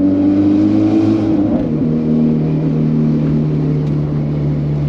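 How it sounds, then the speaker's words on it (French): A Ferrari's engine drones and revs, loud and close, with a steady low tone that shifts in pitch as the car pulls away, no talk. "Ici, elle va faire un beau petit bruit, la voiture."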